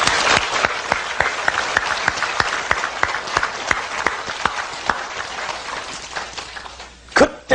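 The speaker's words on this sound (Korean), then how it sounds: "위대하신 구원을 이루신 하나님을 우리가 박수 한번 쳐서 영광 드립니다." A church congregation breaks into sustained applause, dense clapping from many hands filling the space evenly, with a brief shout or voice rising near the end.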